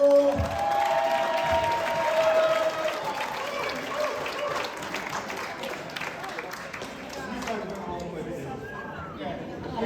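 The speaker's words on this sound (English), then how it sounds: "give him a big welcome and a round of applause" Audience applause and some cheering rising after a brief musical tone, fading gradually under crowd chatter and a voice speaking.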